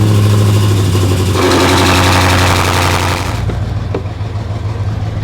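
A BMW M5 with a titanium Valvetronic exhaust cold-starts loudly close by, a high droning roar that flares at around one and a half seconds, then settles to a lower, rumbling idle.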